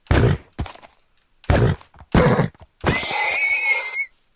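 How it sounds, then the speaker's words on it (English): A Minecraft horse being struck and killed, with sharp hit-and-hurt grunts in quick bursts followed by a drawn-out whinnying death cry, loud and alone. "I literally have to kill the horses"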